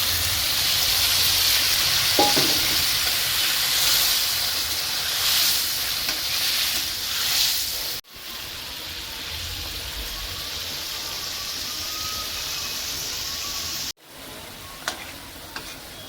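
Water goes into a pan of sizzling prawn malai curry, a Bengali coconut-milk prawn dish. A loud steamy hiss and spitting sizzle settle into a softer simmering bubble, broken by a few brief cuts and clanks.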